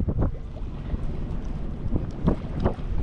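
Strong gusting wind buffets the microphone outdoors during a fishing outing by the water, with low rumbling bursts and sharper gusts rising and falling steadily throughout, loud and close, with no talk.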